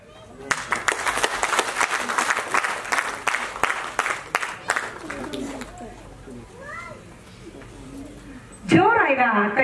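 Audience applause at a Bombay Bunts Association women's wing Haldi Kunku program in Juinagar, a dense burst of clapping through the first half that thins into scattered claps, followed by a voice speaking.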